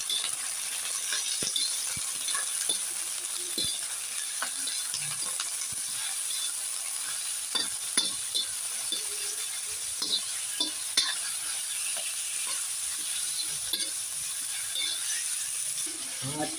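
Garlic and onion sautéing in a pan for pancit, a steady close sizzle with frequent scraping clicks of a utensil stirring against the pan.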